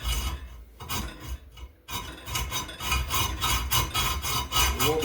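A metal exhaust pipe held in a vise gets a notch cut with repeated rhythmic rasping strokes, close and fairly loud, with a short pause before the strokes resume and continue steadily.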